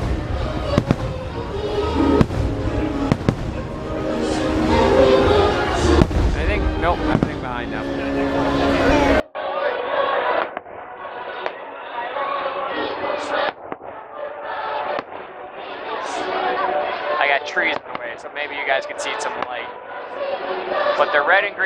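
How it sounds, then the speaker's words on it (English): Loud crackling and booming fireworks bursts at Mickey's Very Merry Christmas Party, amid crowd noise and voices, continuing as a rapid, dense series of pops. "Fireworks."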